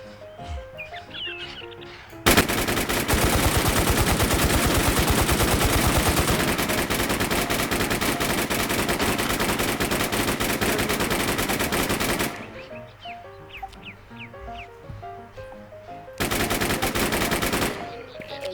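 Sustained automatic gunfire from the video game Infestation, loud dense bursts running for about ten seconds, then a pause with scattered quieter sounds, then another heavy burst near the end; no talking.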